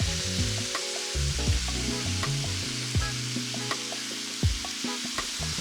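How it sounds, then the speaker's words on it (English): 500 grams of sliced mushrooms with chopped thyme sizzle steadily in a hot pan, with a spoon scraping and stirring at intervals throughout. "Now we're going to put in 500 grams of sliced mushrooms. And stir those around."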